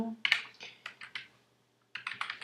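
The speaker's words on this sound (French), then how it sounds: "j'ai un clavier qui tue comme ça, là, dès qu'on appuie dessus" Loud computer keyboard keys are pressed in a close series of sharp, clacky taps, with a brief pause and then another quick run of keystrokes, with no talking.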